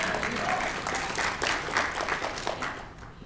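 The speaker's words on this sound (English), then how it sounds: "can I get some applause, please?" Crowd applauding during a political speech, a full, close wash of many hands clapping steadily before tapering off at the end, with no one talking.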